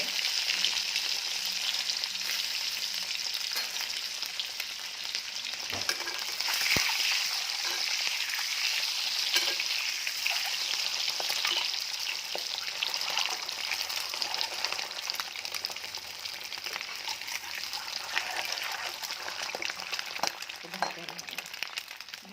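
Eggs already boiled sizzle steadily in hot oil in a pan, a continuous bright frying hiss running throughout with a faint soft clack near the middle.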